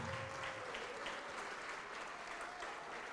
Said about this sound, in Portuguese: vamos aplaudir ao Senhor Jesus por cada vida que está vindo